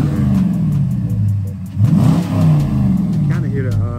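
High-mileage Dodge Challenger R/T revved close up, a loud roar rising sharply and easing back over a steady rumbling idle, with audible intake noise on each blip.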